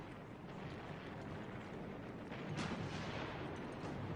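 US tank guns fire during a battle of the Korean War, heard as a dense, steady roar of distant gunfire and rumble with no distinct separate shots, under a noisy, hissing archival recording.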